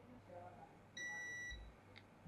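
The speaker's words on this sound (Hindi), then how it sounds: "तो देखिए ये जो रजिस्टर ये आपस में बीप दे रहे हैं" Multimeter continuity beep while probing resistors on a mobile phone circuit board during repair: a single thin, steady tone lasts about half a second over a quiet background hum.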